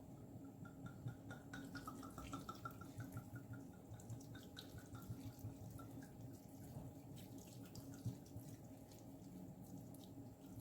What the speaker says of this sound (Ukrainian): Стараємося так заливати вино, щоб покрило все м'ясо.